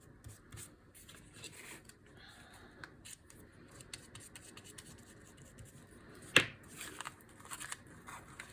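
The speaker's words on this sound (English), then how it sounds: "I'm just going to grab some scissors and miter off our corner over here." Quiet rustling and small scrapes at close range, then one sharp snip of scissors mitering off a fabric corner, followed by a few softer handling sounds.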